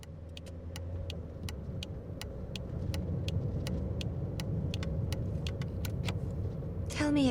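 A car engine hums steadily and close underneath in an audio drama, with regular light ticks repeating throughout and a brief higher squeal at the very end.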